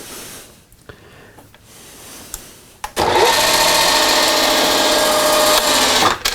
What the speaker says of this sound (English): We're going to drill this tap size 15/32